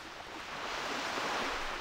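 Water and surf sound effects in The Hunter: Primal, a steady wash of waves that swells slightly and carries on alone without speech.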